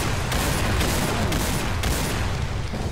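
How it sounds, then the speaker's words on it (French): In a video game, a thrown grenade goes off as a dense, loud burst of blast and gunfire noise that fills the whole moment, with no pause. "Là, on va lâcher une grenade de..."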